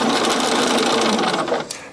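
A sewing machine stitches an invisible zip into fabric, a loud, close, continuous rapid whir that runs nearly the whole time and eases off briefly near the end.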